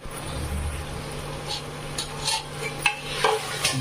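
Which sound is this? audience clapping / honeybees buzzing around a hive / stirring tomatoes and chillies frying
stirring tomatoes and chillies frying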